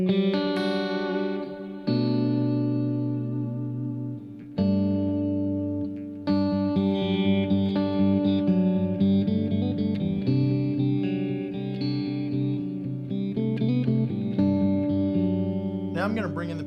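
An instrument played through a Boss VP-4 effects unit with the pitch shift off, sustained tones with sharp attacks and a thick, layered, effected timbre, continuous and fairly loud throughout.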